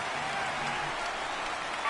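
Loud, steady roar of a home stadium crowd at a football game, a continuous wash of noise through the whole stretch with no clear breaks.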